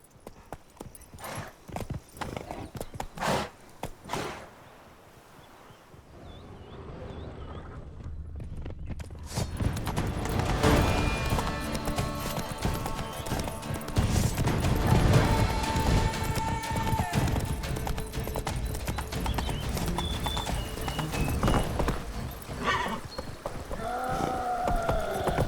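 Hooves clip-clop across the ground in The Witcher 3: Wild Hunt, quiet and sparse at first, then a horse breaks into a loud, sustained gallop with steady rhythmic pounding mixed with game ambience and effects.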